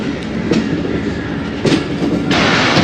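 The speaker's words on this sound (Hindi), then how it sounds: "मियां चन्नू रेलवे स्टेशन पर पहुंच रही है ट्रेन" The Khyber Mail train pulls into Mian Channu railway station in Punjab on a cold, foggy day, a loud close rumble of rolling wheels with rhythmic clickety-clack bursts as cars pass over rail joints, no voices.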